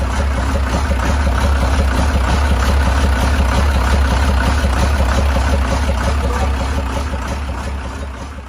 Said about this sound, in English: the Dongfeng Cummins engine of their load roller had abnormal noise